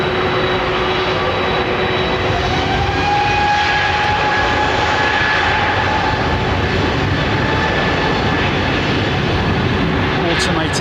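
A Virgin Atlantic jet airliner lines up on a runway at London Heathrow, its engines giving a loud, steady roar and whine that holds throughout.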